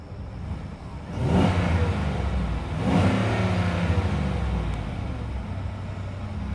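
A 2015 GMC Sierra SLE All Terrain pickup's engine is revved twice, each blip of the throttle rising from a low idle into a swelling roar before falling back, heard fairly close.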